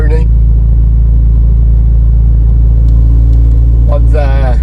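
Toyota MR2 Mk3 Roadster with a new cat-back exhaust cruising at about 3,000 to 4,000 RPM, giving a loud, constant low drone heard from inside the cabin, with brief talking at the start and end.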